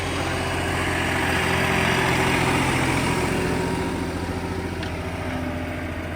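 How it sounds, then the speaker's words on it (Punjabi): A steady, rumbling tractor engine idles nearby on a farm during wheat sowing, chugging evenly throughout with no voices. "ਟਰੈਕਟਰ ਵੀ ਜਿਵੇਂ ਹੁਣ ਚਲਾ ਰਹੇ"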